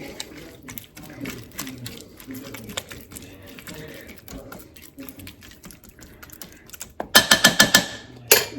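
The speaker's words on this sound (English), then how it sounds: "just kind of give this a stir so everything is all kind of mixed together" A spoon stirs soup ingredients in a pot. Soft scraping and clinking taps sound under a speaking voice, then a quick burst of louder, sharper clatters near the end.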